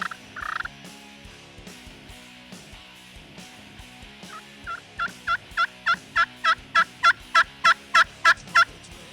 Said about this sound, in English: a whole bunch of turkeys gobbling all around us